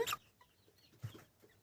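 Small mini chickens cluck in short, scattered bursts on a farmstead in the evening, with a brighter sharp call at the start and softer clucks after, fairly close.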